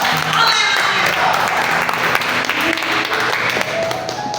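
A church congregation applauding steadily for several seconds, dense clapping with cheering voices mixed in, loud and close throughout.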